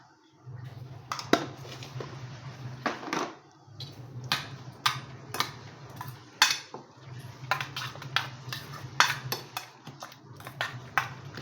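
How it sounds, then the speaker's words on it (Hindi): A spoon clinks and scrapes repeatedly against a bowl while egg paratha batter with red and green chillies is mixed, producing a steady run of close, sharp taps over a low background hum. "ये अच्छी तरह से मिक्स करना है।"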